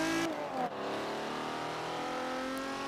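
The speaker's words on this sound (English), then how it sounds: "I hope you can hear me over the engine noise, because this is the 1957 Ferrari Testarossa." In the Forza video game, a 1957 Ferrari Testarossa engine drones steadily at high revs after a brief shift near the start, loud and continuous with no talk over it.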